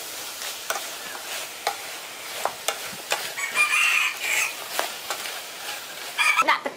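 A spatula scrapes and stirs chicken with spice paste in a pot for a Khmer chicken curry, making irregular clinks and scrapes over a soft sizzle.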